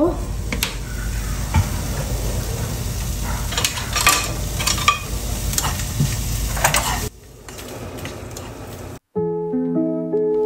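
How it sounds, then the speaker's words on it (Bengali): Onion, garlic and dried red chilies fry in olive oil in a pan, a steady close sizzle with scraping stirs and clicks that drops away near the end before a brief tonal sound. "এখন আমি পেঁয়াজ, রসুন আর শুকনো মরিচ এটা ভালোভাবে ভেজে নেব।"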